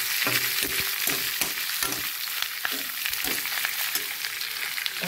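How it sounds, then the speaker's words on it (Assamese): Pork sizzles dry in a hot pan with steady crackling and frying, broken by repeated stirring scrapes and clanks, close and continuous with no talking. "এতিয়া মাংসবোৰ শুকানকৈ অলপ সময়"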